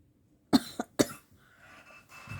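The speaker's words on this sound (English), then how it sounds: "I still have a very bad cough." Two sharp coughs close by, each followed by a short catch, then quiet breathing.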